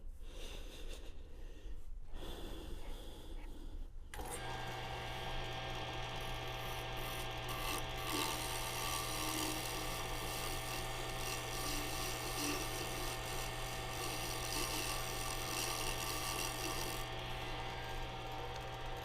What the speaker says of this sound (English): The more I can do here now with a chisel is going to be a lot faster than doing anything with sandpaper.